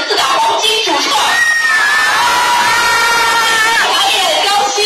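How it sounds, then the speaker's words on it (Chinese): At a film fan meet-and-greet in a Shenzhen cinema, a dense crowd cheers loudly and continuously, with high-pitched shouts and whoops rising over the roar. "让我们用最热烈的掌声欢迎顶入水红颜的四大黄金主创"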